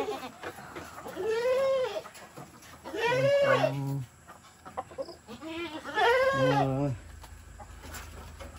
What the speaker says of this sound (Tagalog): Ayan, yung kambing natin.